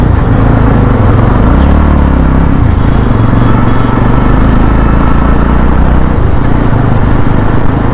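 Yezdi Roadster motorcycles riding in a group on a highway, with a loud, steady engine drone and wind rumble throughout, holding a continuous cruising tone and no talk.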